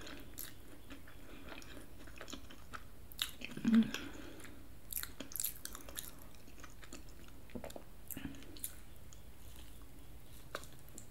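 Quiet, close bites and chewing on a large lemon Crumbl cookie in a soft eating-sounds setting, with a few crunchy bites and moist chews spread over several seconds and no talking.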